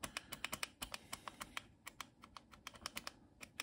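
Typing on the worn keyboard of a Tesla PMD 85-2B vintage computer, a quick irregular series of crisp key clicks, close and fairly quiet, with no talking.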